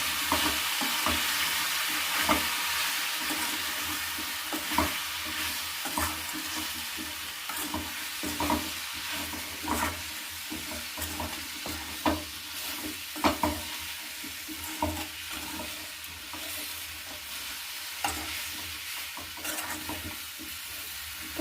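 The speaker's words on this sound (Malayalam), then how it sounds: "എന്നിട്ട് നമുക്ക് ഇളക്കി കൊടുക്കാം" Food with asafoetida and salt sizzles steadily in a hot pan while a utensil stirs it, regular scraping strokes punctuating the constant frying hiss.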